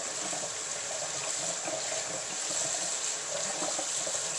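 Tap water runs steadily into a kitchen sink, rinsing cut potatoes for fries. The flow is continuous and even for the whole stretch, with no talking.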